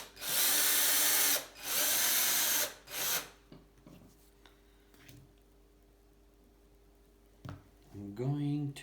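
A power drill with a new bit bores into steel on a vintage Atala bike frame during a gravel bike build. Three loud, grinding bursts come close up, then quiet handling noises, and someone speaks near the end.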